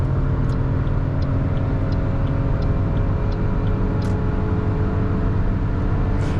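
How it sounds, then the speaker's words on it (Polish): A 2021 Toyota Aygo with the 72 hp engine cruises on a highway, giving a steady, loud low-pitched drone of engine and road noise with constant wind hiss and no pauses. "Dobra, to wjeżdżamy na autostradę."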